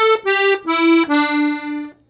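Piano accordion plays a short zydeco riff in G with four sustained, reedy notes that step downward. It sits close and loud, ends in a held tone and has no speech over it.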